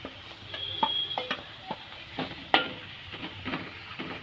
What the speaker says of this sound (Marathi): मसाले सर्व तेलामध्ये परतून घ्यायचे छानपैकी